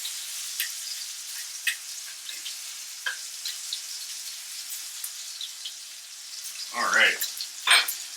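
Halved bacon strips sizzle in a cast iron pan, a soft, bright, steady crackle with sharper pops and spatters now and then, near and fairly quiet, and a voice speaks briefly.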